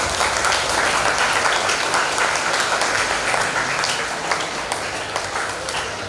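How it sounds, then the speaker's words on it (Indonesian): Students at a vocational school session clap for themselves in a loud, continuous burst of applause that stays dense and even for several seconds before tapering slightly near the end. "Tepuk tangan untuk diri sendiri."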